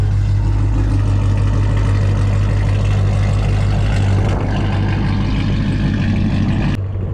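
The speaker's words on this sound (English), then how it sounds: "More idle noise." A Pontiac G8 GT engine idles loudly and close, a steady deep rumble with an even low throb that holds for the whole stretch with no voices.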